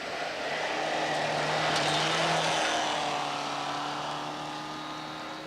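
A Volvo rally car engine drones steadily from a distance on a 1989 Rally of the Tall Pines stage, swelling slightly then fading as it passes, with a sustained low hum throughout.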